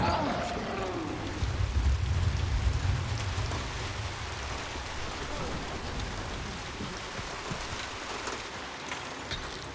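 Steady rain pours throughout, a dense close hiss of drops striking surfaces, with low voices faintly mixed into the wash.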